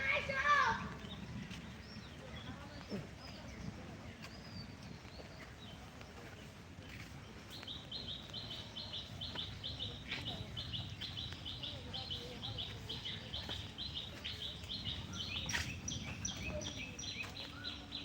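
Birds call to their mates outdoors after rain, with repeated bright chirps in the middle and later part. Someone talks faintly over them.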